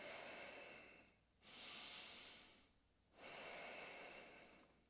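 Slow, deep breathing during a thoracic spine mobility stretching routine, two long breaths with broad airy swells and quiet pauses between them, close to the microphone with no talking.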